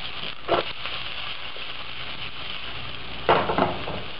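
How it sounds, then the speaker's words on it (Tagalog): Bell pepper and other vegetables stir-fry in a pan, a steady close sizzle broken by brief scraping stirs of the utensil, with no voices. "Kailangan lang natin itong i-stir fry sandali hanggang sa lumambot na yung mga vegetables."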